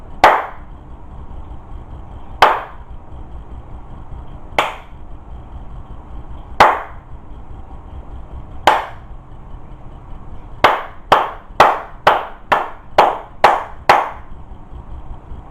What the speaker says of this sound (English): So here's an example. I'm going to clap.